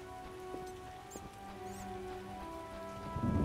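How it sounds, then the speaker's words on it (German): Steady rain in The Witcher video game, a continuous hiss of falling drops with a few faint chirps and tones above it, swelling a little louder toward the end. "Oh, regnet, ne?"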